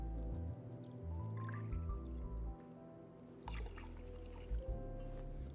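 Two ounces of pink grapefruit juice poured into a cocktail mix, a quiet nearby dribbling and splashing of liquid in a few separate runs, with faint drips and small clinks.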